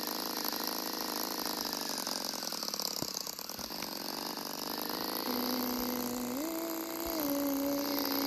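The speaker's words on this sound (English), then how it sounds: "Can you hear this engine?" A car engine in the Bloxburg video game drones steadily at a moderate level, a constant mechanical hum whose pitch shifts upward partway through as if the vehicle accelerates.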